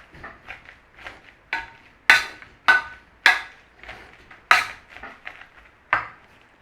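Parsnips and potato mashed with butter, pepper and salt in a pot: a series of sharp, close knocks and thuds from the masher striking the pan, spaced irregularly with some louder hits, no talk.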